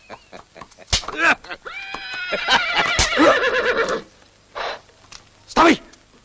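A horse neighs loudly several times up close, a long shrill whinny in the middle with shorter snorting calls before and after, while someone shouts over it.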